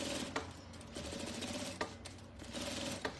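A sewing machine runs steadily, stitching a half-inch seam on a fabric bread basket, with a continuous close mechanical whir and a few brief pauses and bumps.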